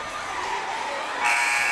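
A loud, steady electronic buzzer ending a basketball quarter blares over a noisy indoor crowd, kicking in near the end and holding.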